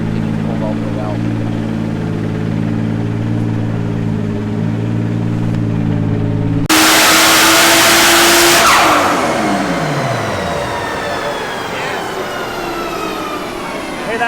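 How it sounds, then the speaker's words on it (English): 2JZ-powered Mustang on a dyno, engine holding a steady droning rev before a sudden loud rush and hiss as the turbo blow-off valve vents, the pitch then falling away as the revs drop. "Hear that blow-off valve?"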